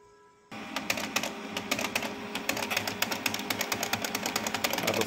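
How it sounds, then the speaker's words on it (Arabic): A Brother HL-3040/3070 laser printer runs with a loud, rapid mechanical clatter of repeated clicks and whirring that starts abruptly after a brief quiet moment. "الصوت في الطابعة شوي قوي،"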